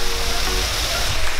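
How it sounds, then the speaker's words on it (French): A waterfall in Mauritius roars as a dense, steady rush of falling water, constant and close, with no voices over it. "Magnifique cascade."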